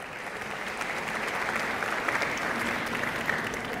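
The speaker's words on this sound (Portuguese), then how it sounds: "palmas pro Robson, Robson, vem cá." Steady applause from a stand-up comedy audience welcoming the stage assistant, a dense even patter of clapping hands filling the room with no talking over it.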